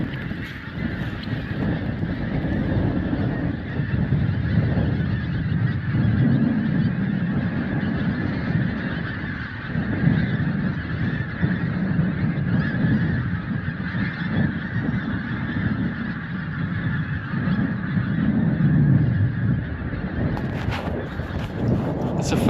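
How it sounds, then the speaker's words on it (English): Thousands of geese honk together on a breezy stretch of English coast, a dense, continuous chorus of overlapping calls at mid distance, with some wind noise on the microphone. "It's a fair gaggle of geese."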